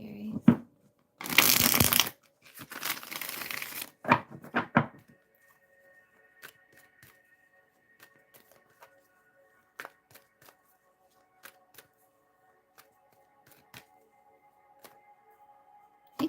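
Tarot cards are shuffled in two brisk bursts of riffling, close and loud, followed by a few softer taps and then near silence with faint scattered ticks.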